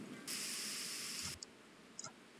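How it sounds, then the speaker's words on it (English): A spray paint can hisses in one steady, loud burst of about a second, then gives two short sputtering spurts as it runs nearly empty, while a garage project gets its coat of paint. "Why I hate spray paint. They run out so easy."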